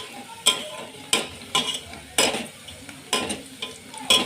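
Chopped onions fry in a pan for masala rice, with a steady sizzle broken by about eight sharp scraping stirs of a spoon against the metal, close and fairly loud.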